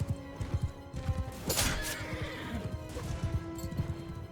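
Horse neighs amid a medieval battle in Mount & Blade II: Bannerlord, a loud whinny rising over steady rhythmic hoof clops and the clatter of combat, no talking.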